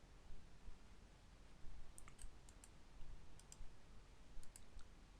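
Faint, quiet mouse clicks in short clusters of two or three, spaced over a few seconds against low background hiss, as textures are edited in NifSkope on a computer.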